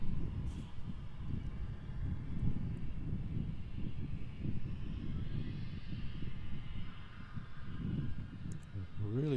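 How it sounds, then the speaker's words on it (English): A KLM Embraer E195 takes off from the Polderbaan at Schiphol Airport, Amsterdam, its steady distant jet roar mixed with wind noise while a person talks over it. "After that, Embraer E195 from Florence, KLM. It's a little takeoff from the Polderbaan, also there."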